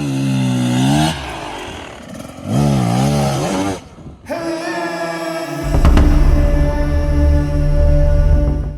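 An enduro motorcycle ridden fast and braked hard: the engine revs up loud and close, cuts off sharply, then roars again with a rising, rough drone and some clattering.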